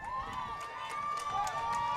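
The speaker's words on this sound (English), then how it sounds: "Dragon crowd letting him hear it" Dragon fans roar through a steady, loud crowd din at a Junction City vs Spring Hill football game, the noise holding without a break across the whole stretch with a faint sustained tone riding on top.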